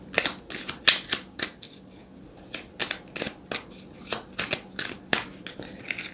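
Tarot cards being shuffled by hand in a quiet room during a reading, a run of crisp papery riffles and flicks repeating every half second or so, close and clear with no talk.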